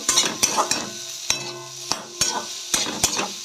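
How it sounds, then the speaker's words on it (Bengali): Vegetables with salt and spices stirred and fried in a pan, a spoon scraping the pan in repeated sharp knocks over a steady close sizzle, with no talking. "নাড়াচাড়া করে ভাজা করব"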